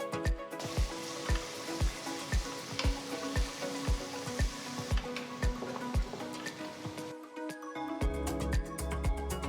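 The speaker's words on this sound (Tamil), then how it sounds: "1 கப் பீன்ஸ் நறுக்கினது, 1/2 கப் ஃப்ரெஷ்ஷான பட்டாணி சேர்த்து வதக்குங்க." Chopped carrot, beans and fresh peas sauté in a pan for jowar khichdi, a steady sizzle cut by a regular series of scraping, knocking stirs, then a brief pause before louder sizzling and clattering resume.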